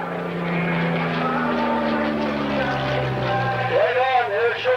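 A propeller-driven warbird makes a pass at a July 2008 airshow in Geneseo, New York. A loud, droning engine hum holds throughout, and its pitch falls clearly as the plane goes by.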